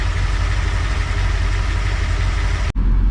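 A 1979 Ford full-size truck with recent head work sits running, its engine holding a steady, loud, low idle with a brief dropout just before the end, and no voices.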